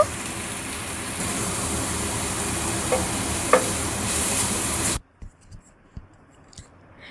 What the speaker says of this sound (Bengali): কড়াইতে তেল দিয়ে দিলাম, এর মধ্যে ম্যারিনেট করা চিকেনটা দিয়ে দিচ্ছি। এবার এটাকে ভালো করে ভেজে নেব।